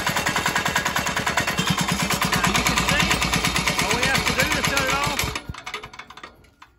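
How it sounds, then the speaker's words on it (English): A 196cc Chinese diesel engine fires up after a pull start and runs with a rapid, loud, steady knocking chug, then winds down and stops near the end. "Push your decompression switch down and then give it a good pull."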